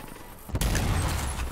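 Hypercannon firing in the shooter game Rage 2, a sudden loud blast about midway that leaves a broad, booming roar ringing on to the end.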